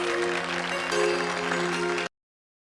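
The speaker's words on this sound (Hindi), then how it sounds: "तालियों से स्वागत कीजिए प्लीज" Applause welcoming a fashion show's showstopper onto the stage, a steady burst of clapping blended with sustained tonal music, cutting off abruptly after about two seconds.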